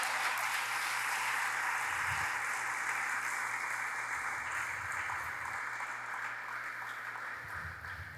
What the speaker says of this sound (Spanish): Y si puede aplaudirlo,